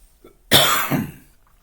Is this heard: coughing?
yes